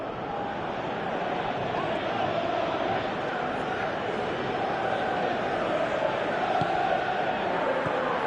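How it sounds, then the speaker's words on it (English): A football video game stadium crowd roars and murmurs in a steady dense wash, fairly faint and continuous throughout, with no distinct chants standing out. "you can feel and hear how the crowd are reacting to all of this"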